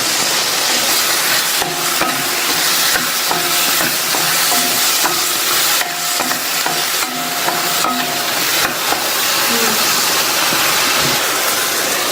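Brinjal sautés in a half tablespoon of oil in a pan, giving a loud continuous sizzling hiss broken by scattered clinks and scrapes of stirring, with no talking.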